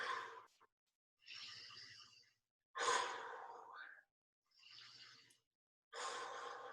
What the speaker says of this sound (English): In through the nose and out through the mouth with that breathing.